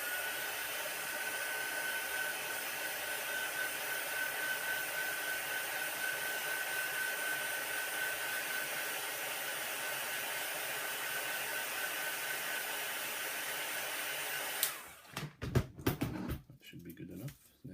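A heat gun or hair dryer blows a steady, fairly faint whooshing hiss while heating the front of an iPhone 6 screen, then cuts off near the end, leaving handling noises.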